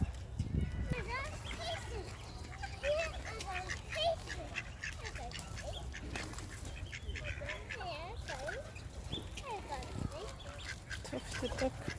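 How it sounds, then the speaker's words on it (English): Tufted duck calling among other waterfowl on an urban lake with coots, geese and pigeons nearby, repeated short quacking and chattering calls throughout over steady background noise, with a person talking at times. "Tufted duck."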